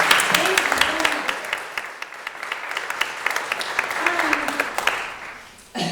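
Audience applause for guest speakers at an adventure education conference keynote, a sustained wash of many hands clapping that runs for several seconds before cutting off abruptly near the end.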